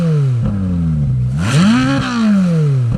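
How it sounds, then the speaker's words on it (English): A 2015 Ferrari 458 Speciale's 4.5 liter V8 idles, then revs sharply, its pitch climbing and falling back, with a smaller blip at the end. The engine is close and loud, and no one speaks. "I'm sure you guys are wanting to hear what this car sounds like, so we're gonna do a couple revs"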